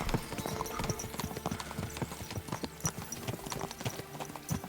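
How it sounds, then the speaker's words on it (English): Rapid rhythmic clip-clop of horse hooves at a steady trot in the video game Kingdom Come: Deliverance 2, fairly close, with faint speech murmuring underneath. "I'm glad at least I've got a horse now."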